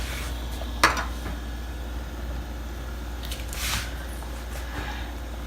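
Pan of aloo tamatar curry lifted off a stove: one sharp metallic clank near the start, then a softer shuffle of cookware a few seconds later, both over a steady low kitchen hum.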